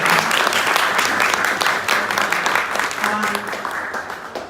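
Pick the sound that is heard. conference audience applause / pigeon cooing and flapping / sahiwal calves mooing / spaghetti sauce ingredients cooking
conference audience applause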